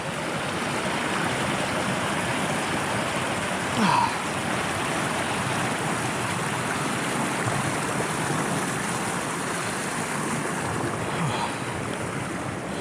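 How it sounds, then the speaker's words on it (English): River water rushes steadily around someone wading across a river in Kielder Forest, a continuous close wash of flow with wind buffeting the microphone and one brief louder splash partway through. "But I did choose to cross the river"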